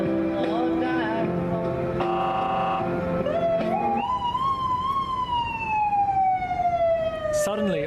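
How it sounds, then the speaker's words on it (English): US Border Patrol vehicle sirens wail loudly and close, starting in a tangle of tones and then settling into a long, slowly falling howl that carries over the background. "Suddenly, on the US side, the Border Patrol sirens fire up."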